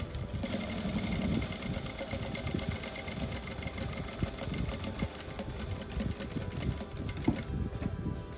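A sewing machine stitches fabric for a flower rug, giving a fast, continuous rattling hum with a steady mechanical rhythm that runs for the whole stretch, close and moderately quiet.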